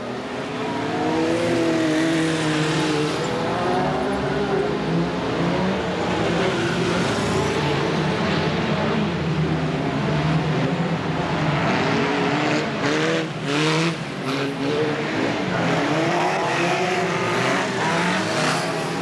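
BriSCA Formula 1 stock cars race around an oval track at Boston in 1991, several engines roaring together in a continuous, wavering drone as cars pass and accelerate, heard from trackside with no voices.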